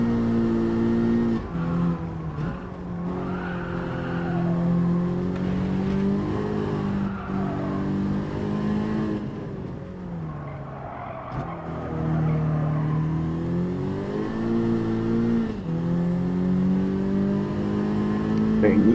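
A Honda Civic Type R being driven hard: the engine rises and falls through revs and gear changes, steady and close with faint tire noise, and a person talks over it for much of the time.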